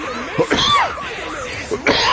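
Several sharp, close coughs from a man, with throat-clearing between bursts, loud and harsh.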